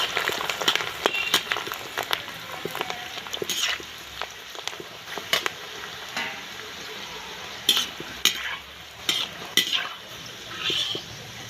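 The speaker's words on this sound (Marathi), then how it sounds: "आता आपण कांदा तळून घेऊया।" Sliced onions frying in hot oil in a wok, a continuous close sizzle broken by frequent sharp scrapes and clinks of a spatula against the metal, with no one talking.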